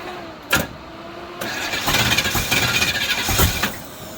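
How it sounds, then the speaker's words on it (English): A 1974 Alfa Romeo Spider's starter motor cranks the engine in a few bursts, with a sharp click, then steady loud grinding that surges and stops, close by with no talk. "we're just gonna go until the starter burns up"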